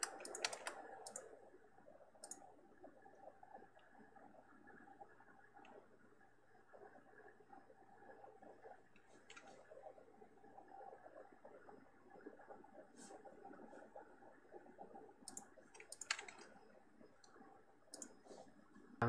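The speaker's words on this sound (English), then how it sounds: "you can listen to the patterns of my typing" Computer keyboard being typed on to enter a password, quiet close clicking in irregular bursts and short runs, with no voices.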